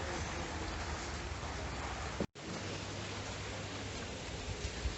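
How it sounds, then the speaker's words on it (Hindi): Heavy monsoon rain pours outside on the ghat road at Malshej Ghat, a steady dense hiss with a brief dropout midway. "फ़िलहाल कुछ इस तरह से बाहर का नज़ारा, बारिश होते हुए"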